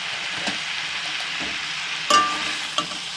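Spices fry on low heat in a pan for a Bengali prawn and taro stolon dish, a steady soft sizzle with a few scraping stirs and a sharper clink near the end.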